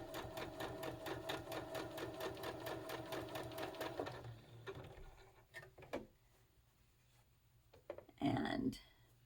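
A sewing machine stitches quilt fabric for a hexagon flower bouquet quilt in a rapid, steady hum for about four seconds, then stops, leaving quiet handling noises and a brief burst of rustling.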